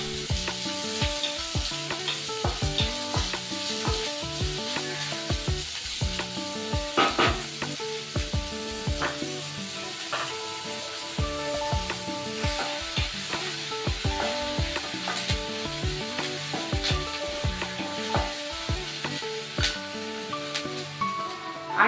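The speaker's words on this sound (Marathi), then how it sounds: "कांदा पण चांगला शेकून घ्यायचा." Chopped onion frying with cumin seeds in a little oil, a steady close sizzle broken by frequent clicking stirs and scrapes of a spoon against the pan, going on for a long stretch without speech.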